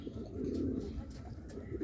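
A Bombay pigeon coos close by, a low rolling throaty call that swells and fades across the moment with no talking over it.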